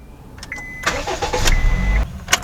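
A 2012 Honda Freed with a key ignition turns over and settles into a steady mid-pitched engine hum, close by, with a couple of short mechanical clicks and beeps over the running motor.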